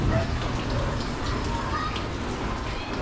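Heavy rain pours steadily during Typhoon Carina in the Philippines, a dense continuous hiss of water close by, with indistinct voices mixed in.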